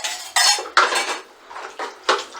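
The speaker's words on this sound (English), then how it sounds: "So stir this until everything is well mixed." A utensil scrapes and clatters against a bowl in repeated strokes while butternut is stirred into chapati dough mix, with close, loud bursts in an irregular rhythm.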